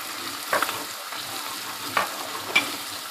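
Onion frying with ginger garlic paste, salt, chilli, turmeric and black pepper for balti gosht gives a continuous close sizzle, broken by a few scraping stirs of a spoon against the pan.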